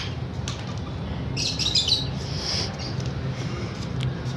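Lovebirds and their chicks chirp and squabble in a steady, close chorus of high tweets, with a brief burst of sharper calls partway through.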